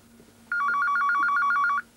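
An office telephone gives one trilling electronic ring, a fast warbling burst of about a second and a half, loud and close against a quiet room with a faint hum.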